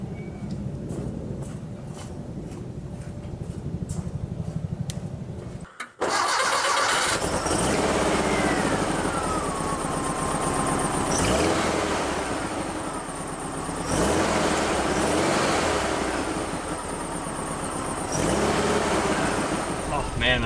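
A 1967 bus with a 1904cc engine cranks and catches after a short pause, then runs loud and steady nearby, revving a few times.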